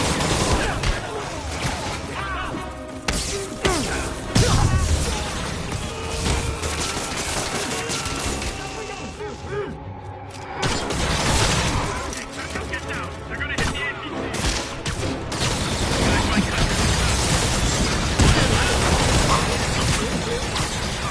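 Bombs blast a city in a Spider-Man video game: dense, loud rapid bursts of explosions and impacts rattle on continuously, with voices talking over the chaos.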